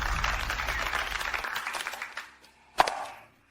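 Wedding audience applauding as the bride is welcomed, a dense burst of clapping that fades out over a few seconds, then a single sharp knock before silence.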